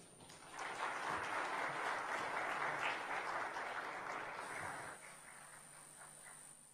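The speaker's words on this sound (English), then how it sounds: "Please, let's give him another round of applause." Audience at a high-level event on violence against women and girls applauds after a speech, a steady round of clapping in a large hall that tapers off, leaving quiet room tone.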